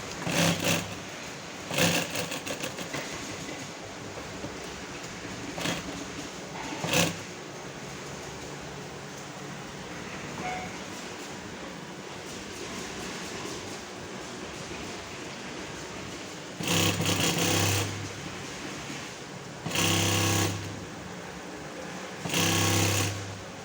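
Sewing machine stitching a two-seat upholstered seat cover, running in several sustained loud bursts of rapid mechanical whirring with short pauses between, stopping near the edge of the fabric.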